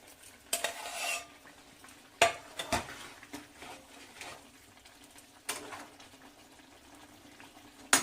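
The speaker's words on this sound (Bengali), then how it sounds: "এবারে দিয়ে দিচ্ছি ভাজা বেগুনগুলো" Fried eggplant being stirred into bubbling tamarind gravy in a pot, irregular clinks and scrapes of a spoon against metal over a soft simmer, quiet between bursts.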